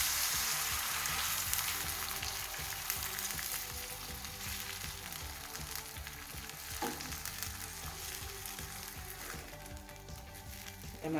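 Chicken and carrots cook in water in a pan, giving a continuous bubbling sizzle with light stirring noises, steady and close with no talking.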